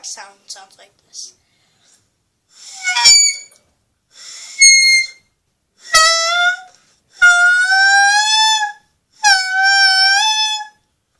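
Alto saxophone mouthpiece alone with a moistened reed, sounding a series of short squealing high tones, first sputtery attempts then steadier sustained notes separated by pauses.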